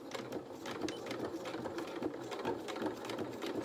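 A sewing machine running a straight stitch at 2.2 stitch length on fabric, a fast steady mechanical whirring with rapid rhythmic needle clatter, close and continuous, no voices.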